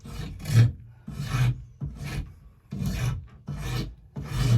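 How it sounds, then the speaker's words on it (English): A rasp files a wooden axe handle in a series of about six close, rough rasping strokes with short gaps between them and no talk. "Remember to keep that rasp rolled."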